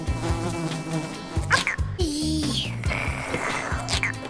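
A fly buzzes in a thin, steady drone close by, with a short vocal sound and light background music underneath.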